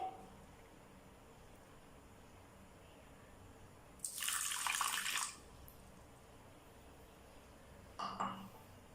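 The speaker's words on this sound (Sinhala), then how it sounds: "සීනි වැහෙන ප්‍රමාණයට තමයි වතුර ටික දාන්න ඕනේ." Water is poured into a pan of sugar to start caramel for a caramel pudding, giving a short, loud splashing pour over a quiet room, then a briefer second pour a few seconds later.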